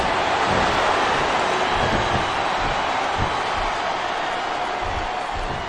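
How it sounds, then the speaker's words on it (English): A capacity arena crowd in WWE SmackDown vs. Raw 2007 makes a constant loud roar, a broad steady wash of noise with faint thumps underneath and no clear individual voices. "This capacity crowd is making their opinions known tonight."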